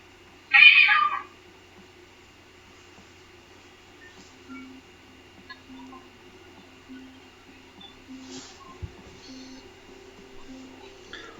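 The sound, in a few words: cat meowing at a door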